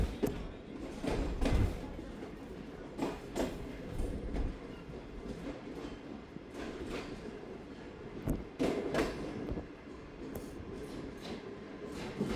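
The Bahauddin Zakariya Express, a Pakistani passenger train on the Multan to Rohri run, rumbles along at a moderate distance with irregular rattles and clanks from the cars. A few louder knocks stand out over a steady low drone.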